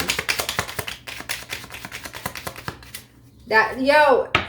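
Tarot cards shuffled in repeated rapid riffling bursts, close and crisp, running steadily for a few seconds before a voice breaks in.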